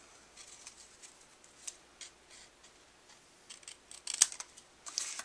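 Scissors trimming paper for an Easter card, a series of soft close snips and crisp cutting clicks, irregular and quiet, with the sharpest cut near the end.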